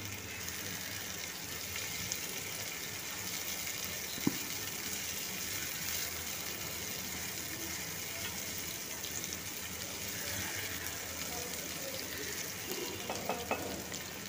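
Two finely chopped onions fry in oil in a pan, giving a steady, even sizzle throughout with a faint tap near the middle.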